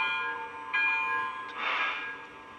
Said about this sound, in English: You got all the different bell sounds.